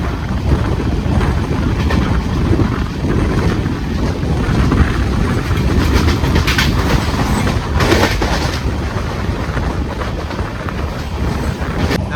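The Thiruvananthapuram-Thrissur Intercity Express runs at speed, a loud continuous rumble and rattle of carriages with wind buffeting the microphone and occasional clanks, no one speaking.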